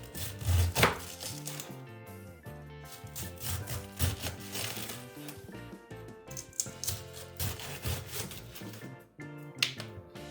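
Rapid, irregular knife chops through cabbage on a wooden board, crisp close-up thuds and crunches repeating in quick bursts with brief pauses, no speech.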